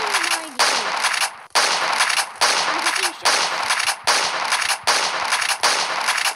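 Rapid bursts of SPAS-12 shotgun fire from a guns mod in Minecraft PE, loud, close, repeated blasts at a steady pace of roughly one every 0.8 seconds, each with a broad crack and short tail.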